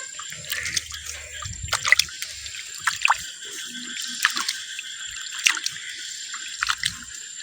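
Water dripping and trickling while fish are washed, a close run of irregular drips and small splashes with quiet gaps between, no one speaking.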